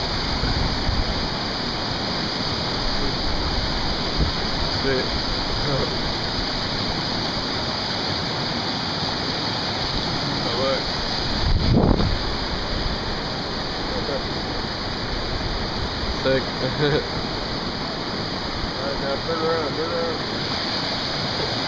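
River water rushes steadily throughout, a dense broadband wash like a stream or small waterfall, with occasional brief voices and a short thump partway through.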